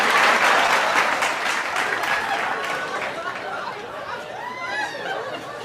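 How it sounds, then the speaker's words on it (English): Live show audience applause, a loud wash of clapping that gradually thins and fades, mixed with scattered laughter and chatter as it winds down. "Round of applause for that, please."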